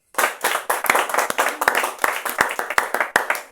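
A church congregation claps in an irregular, lively patter, close and loud, with scattered voices calling out amid the steady applause.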